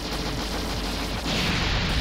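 Rapid, dense gunfire and explosive bursts from a ship blasting a huge enemy craft in the Android shooter Dodonpachi Unlimited, loud and continuous, swelling heavier near the end.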